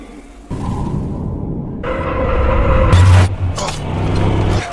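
A car speeds away during a chase-style escape in the 2014 film Edge of Tomorrow, engine noise loud and continuous with rising rev-like surges and mixed action-scene sound, with no voices.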